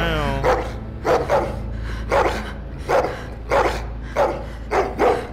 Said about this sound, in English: Marlin, come get your dog.